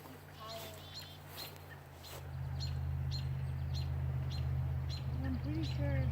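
A rescued baby bird chirping in short, high, repeated peeps, faint and close, over a steady low hum, with soft voices talking at the start.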